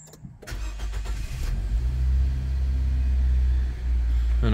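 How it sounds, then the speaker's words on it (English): A 2018 Nissan Juke Bose Edition 1.6 petrol hatchback starts up close by, with a brief starter crank followed by the engine catching and settling into a steady low idle rumble. "we'll just start the car up"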